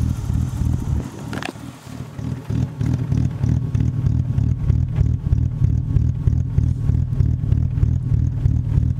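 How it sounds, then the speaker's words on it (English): A BMW E34 engine idles rough, a loud close low rumble with an uneven, pulsing beat and a clattery edge, holding steady throughout with no voices. "I believe that this engine is a little bit quieter, but it uh, kind of idles rough"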